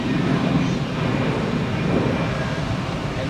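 An Emirates A380 airliner starting to taxi at Zurich Airport, a steady, heavy jet engine roar with deep rumble, loud and unbroken throughout.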